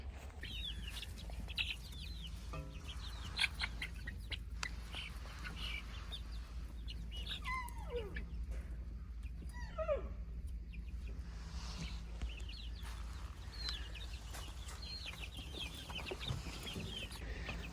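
Many short, high chirping peeps from young chicks, some scattered and some in quick runs, over a steady low background hum.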